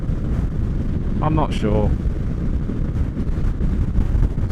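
Strong crosswind gusts past a microphone outdoors near trees, producing a heavy, constant low rumble of buffeting with a short spoken remark partway through.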